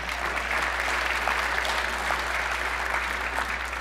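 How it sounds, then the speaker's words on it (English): An audience at an RNC speaker series event applauds steadily for several seconds, a dense even wash of clapping with no talk over it. "We can all applaud for that, right?"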